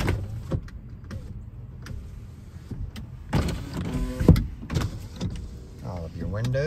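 The power windows of a 2012 Toyota Prius v whir up and down inside the car, the motor hum rising and falling over several seconds. A person talks alongside, with a few light thumps.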